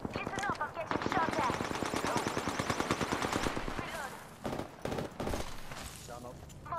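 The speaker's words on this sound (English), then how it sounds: "The enemies are shooting at me." Rapid automatic gunfire in the battle-royale shooter Apex Legends: dense, loud bursts of shots for several seconds, then scattered, quieter shots and impacts.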